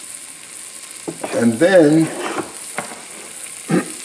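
Olive oil sizzles in a pot while a cook sweats bay leaf for black beans with a smoked ham bone, a steady close frying hiss with brief stirring noises and a short spoken phrase over it.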